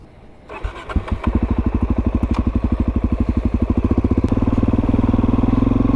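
A Suzuki DRZ400SM supermoto motorcycle cranks, catches and settles into a loud, close single-cylinder thump, a rapid even pulse that holds steady and then swells slightly as the bike gets under way.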